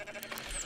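A short, wavering sheep bleat from the video game Rising World, fairly faint, over a low background hum.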